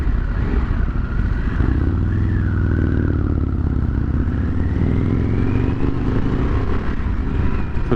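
A 2023 Harley-Davidson Sportster S rumbles loudly and continuously, engine note rising gently as it pulls away from a stop with the rider aboard.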